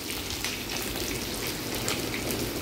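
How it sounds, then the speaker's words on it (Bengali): Pointed gourd and potato pieces frying in hot oil give a steady, dense crackling sizzle that holds at an even, close level throughout, with no talking. "পটলগুলো গরম তেলে ছেড়ে দিলাম।"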